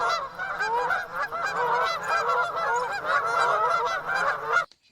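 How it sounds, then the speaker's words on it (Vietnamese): Geese honk continuously in a dense, overlapping chorus for about five seconds, loud and near, before the calls stop abruptly, with no voices. "Goose."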